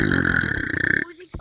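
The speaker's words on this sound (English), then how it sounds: "queso aggressively burp" A loud, drawn-out aggressive burp rumbles for about a second and cuts off abruptly, followed by near silence and a faint brief noise.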